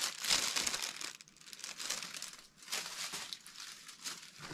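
Floral spring/summer wrapping paper crinkles and rustles in steady handled bursts with brief pauses, close and fairly quiet, no talking.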